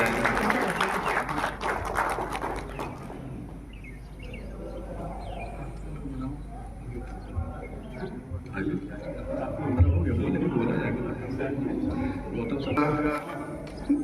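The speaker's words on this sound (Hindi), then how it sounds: "प्लीज ताली बजा करके इनका इस्तकबाल किया जाएगा।" An audience at a marriage hall claps to welcome a guest, a scattered round of applause that swells and fades while someone speaks over it.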